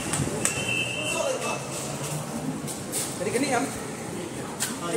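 Riding a Bangkok BTS metro train: a steady rumble of the moving carriage with intermittent clatter and brief high squeals, while people talk over it.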